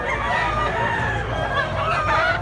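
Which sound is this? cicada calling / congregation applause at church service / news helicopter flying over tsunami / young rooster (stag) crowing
young rooster (stag) crowing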